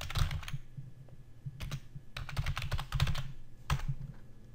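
Rapid typing on a computer keyboard while naming an import in Xero accounting software: quick, close clicking keystrokes in several bursts separated by short pauses.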